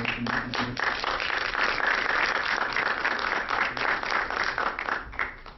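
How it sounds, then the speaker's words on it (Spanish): An audience welcomes a researcher to the stage at a talk with steady, hearty applause. The clapping holds at an even level for several seconds, then begins to taper off near the end. "le damos una bienvenida con un fuerte aplauso"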